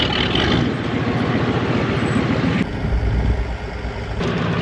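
A 7.3 IDI diesel truck engine runs with a steady, close, low rumble throughout, its tone shifting slightly partway through.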